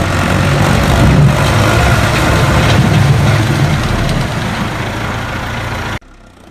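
Tractor engine idling in a residential courtyard, a steady, loud low rumble running continuously for about six seconds before cutting off abruptly.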